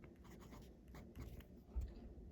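A fraction written by hand, soft close scratchy strokes of pen or pencil on paper in short bursts, faint and without talk.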